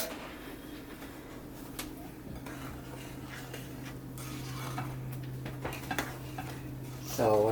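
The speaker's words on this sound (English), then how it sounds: "I'm just going to mix this in." A spoon stirs cookie dough in a bowl, giving faint soft scrapes and an occasional light clink over a steady low kitchen hum.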